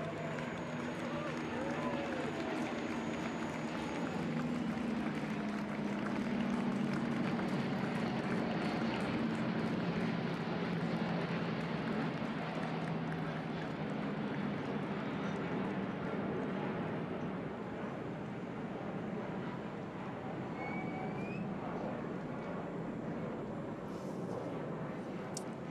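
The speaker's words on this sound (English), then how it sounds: "I think the chase airplane is making more noise than the A350" A chase airplane's engines roar steadily and broadly during the first-flight landing of an Airbus A350 XWB, a continuous loud rumble lasting throughout, with voices talking faintly underneath.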